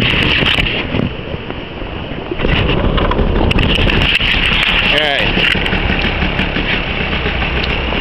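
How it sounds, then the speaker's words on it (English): A boat motor starts and runs with a steady engine drone under heavy wind noise, while people talk nearby. "let me start the motor and stuff"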